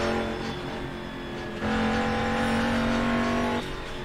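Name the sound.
Mercedes-Benz CLR-LM race car engine in Assetto Corsa video game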